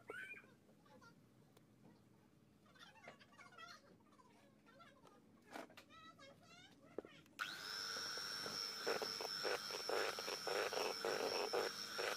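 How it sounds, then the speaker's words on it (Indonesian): An electric mixer beating pandan cake batter starts up midway with a loud, steady whirring drone, after a stretch of quieter background noise with faint voices. "kemudian diaduk kembali dengan menggunakan mixer sampai warna hijaunya ini tercampur merata"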